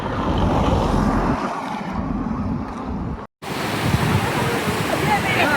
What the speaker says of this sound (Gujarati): રોડ માથે પાણી.